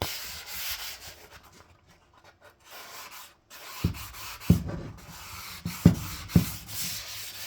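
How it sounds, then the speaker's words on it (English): A wood finish being sanded and scuffed by hand, heard up close as steady rasping strokes, faint at first and then sharper, louder passes toward the end, with no talking. "I'm almost done with getting this finish sanded off here, or sanded, scuffed."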